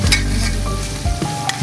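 Duck curry with papaya sautés in a pan as the meat is browned until the oil separates: a loud, continuous sizzle with scraping stirs, no voices.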